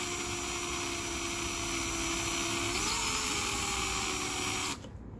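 A drill bores into the welsh plug of a Yamaha V-Star 650 carburetor, its motor whining steadily and loudly up close, dipping slightly in pitch midway before cutting off abruptly near the end.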